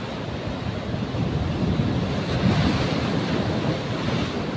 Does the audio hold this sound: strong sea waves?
yes